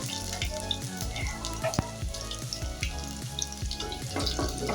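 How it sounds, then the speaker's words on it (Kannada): Garlic fries in hot oil in a pan for a bitter gourd gojju, giving a close, continuous crackling sizzle with small pops and some stirring clatter. "ಇದಕ್ಕೆ ಬಿಸಿಟ್ಕೊಂಡಿರೋ ಬೆಳ್ಳುಳ್ಳಿ ಹಾಕ್ತಾ ಇದ್ದೀನಿ"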